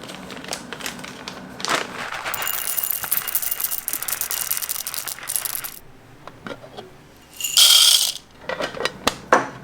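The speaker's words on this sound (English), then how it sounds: "We're going to grind our coffee on a medium to coarse grind." Coffee beans ground medium to coarse in a grinder for Chemex brewing: a rough grinding burst runs for a few seconds, followed by small clatters and a short, loud second burst near the end.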